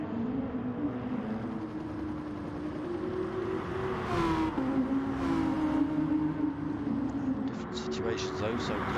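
Audi Gr.3 racing cars lap Laguna Seca in a video game, their engines giving a continuous droning, shifting whine under a commentator's talk.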